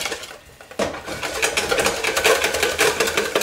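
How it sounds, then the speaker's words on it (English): Egg yolks whisked in a bowl set over simmering vinegar, a fast, steady rhythmic clicking and tapping of the whisk against the bowl that starts after a brief quiet moment. "whisking the eggs"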